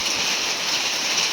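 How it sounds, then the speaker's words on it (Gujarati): Rain falls steadily outdoors in gusty wind at a forest cooking spot in the Dang jungle near Ahwa, a continuous broadband hiss with no voices. "વરસાદ પણ ચાલુ થઈ ગયો અને પવન પણ ખૂબ આવતો છે"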